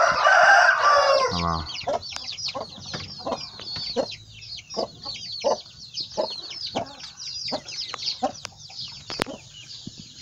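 A rooster and several small chicks on a farm raising Chinese chickens, with a loud crow at the start followed by a steady run of chirps and clucks close by; a voice speaks briefly.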